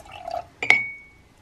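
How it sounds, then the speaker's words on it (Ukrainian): Aquarium water is scooped out and poured into a container, giving a short watery splash with a bright glassy ring that fades over about a second, preceded by softer handling sounds. "Набираємо з акваріуму і додаємо сюди."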